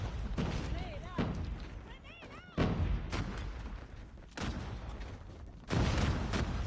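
Heavy in-game blasts in Call of Duty Search and Destroy, several thudding booms landing a second or two apart, loud and close, mixed with gunfire and running under steady talk.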